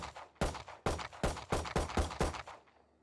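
Seven sharp gunshots from the tactical shooter game Valorant, fired one at a time in a steady, fairly quick rhythm, each loud and close with a short ringing tail, with a brief pause before the first shot.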